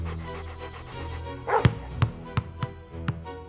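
A pet dog named Buddy barks indoors in a living room, giving five or six sharp, close barks in an uneven rhythm after a whiny, yipping onset, with no talk over them.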